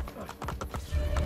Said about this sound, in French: Mais putain, il est lent mon cheval.